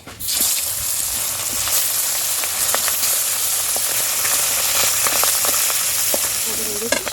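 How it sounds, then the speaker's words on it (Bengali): Pieces of khoira fish fry in hot oil in a home kitchen, prepared for a yam curry. A loud, close, continuous sizzle with frequent small pops and spatters carries on throughout. "বাকি মাছগুলো ভেজে নেবে এইভাবে"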